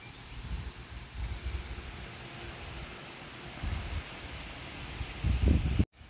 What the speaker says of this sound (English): The wind caught us, so we had to stop for a second.